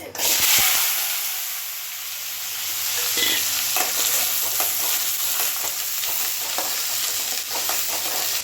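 Grated coconut frying in hot sesame oil for a roasted country chicken curry, a steady close sizzle with scraping and clinking stirring strokes throughout, fairly loud, no talking.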